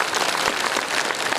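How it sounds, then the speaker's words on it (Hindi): An audience at a birthday cake-cutting ceremony breaks into applause, a short, loud, dense patter of many clapping hands held steady from start to finish without speech. "इसलिए और एक बार बजनी चाहिए तालियां।"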